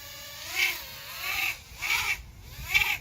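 Toothpick FPV micro drone motors buzz in rising whiny pulses under throttle with a rough, vibrating edge, four separate bursts at moderate loudness with no speech.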